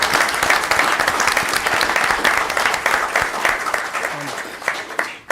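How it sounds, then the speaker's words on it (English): An audience bursts into dense, sustained applause at a talk about distracted and impaired driving, the clapping close and loud before thinning out near the end. "I think we should applaud them for doing"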